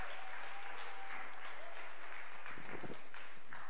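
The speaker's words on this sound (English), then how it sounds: "would you give these guys a big round of applause?" A camp audience gives a sustained round of applause, a dense, even wash of clapping that continues throughout with no talking over it.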